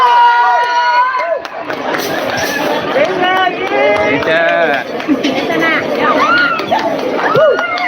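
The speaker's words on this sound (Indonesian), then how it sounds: "beri tepuk tangan yang sangat luar biasa" A wedding audience at a hotel in Makassar cheers and applauds for a performer, a loud dense crowd din with shouts and whoops layered over clapping, continuous throughout with voices mixed in.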